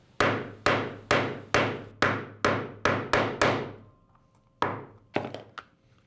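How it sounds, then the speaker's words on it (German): A hole punch struck with a hammer through leather and Kydex knife-sheath material: eight sharp, evenly spaced thunks, a short pause, then a few more quicker blows, loud and close. "Einfacher geht es dann mit Locheisen."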